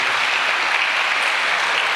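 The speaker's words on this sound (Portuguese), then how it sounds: "Então vamos aplaudir esse servo de Deus" Church congregation at an Assemblies of God teaching service applauding an elderly vice-president, a dense, even wash of clapping from a large crowd, steady and moderately loud throughout.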